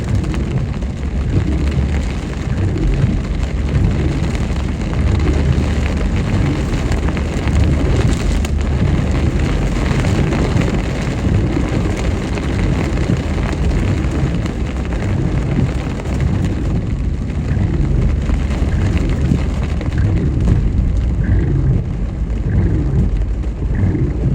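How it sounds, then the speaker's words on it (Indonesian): Heavy rain falls steadily and loudly during a drive along a road in Gowa, Indonesia, a dense continuous wash mixed with rumbling wind and road noise and no voices. "Mudah-mudahan hujan berhenti."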